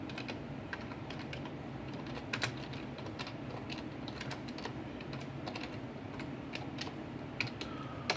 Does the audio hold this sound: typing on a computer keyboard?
yes